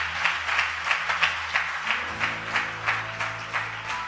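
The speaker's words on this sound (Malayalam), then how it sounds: "ഇവനൊന്ന് കയ്യടി കൊടുത്തേര്" A church congregation claps in rhythm, with bursts of hand claps at an even, regular beat under soft sustained music, fairly close and moderately loud throughout.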